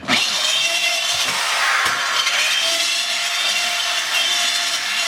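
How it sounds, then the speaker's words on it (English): A reamer enlarging the hole for a wideband AFR sensor bung on a 2010-2015 Camaro SS, giving a continuous harsh, hissy grinding rasp up close, loud and steady for about five seconds with no talk. "Just gonna ream the edges."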